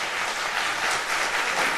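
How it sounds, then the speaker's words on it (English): Sustained audience applause at a televised health-care debate between a congressman and a senator, a dense, steady wash of many hands clapping from start to finish with no talk over it. "Please refrain from applauding or expressing congratulations, remonstrances of any type of approval or disapproval."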